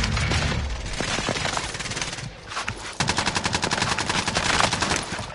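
Video game gunfire rattles in rapid automatic bursts, loud and close, with a heavy blast near the start and a dense machine-gun stream through the second half.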